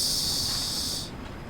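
Freight train brakes in Train Sim World 2 release a loud, steady air hiss over low rumbling, the hiss cutting off abruptly while the rumble continues.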